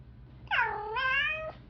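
An orange cat in a video game lets out one clear, drawn-out meow, close and loud, rising then holding before it cuts off.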